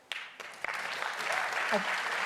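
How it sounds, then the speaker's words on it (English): Applause from an audience at a 2025 New York City mayoral forum on the environment, starting with a few scattered claps and swelling into steady clapping. "remind everyone to hold their applause until the end so we can keep moving on with the questions"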